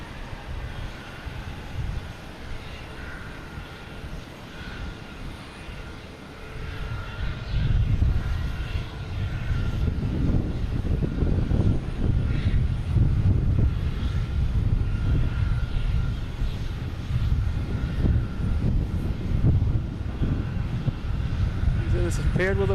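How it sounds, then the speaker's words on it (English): A JetBlue jet on approach over Castle Island, landing on runway 4 Right at Boston Logan Airport, its engine roar swelling steadily from a distant rumble to a loud, sustained outdoor drone. "we got a JetBlue heading over Castle Island right now, landing on 4 right."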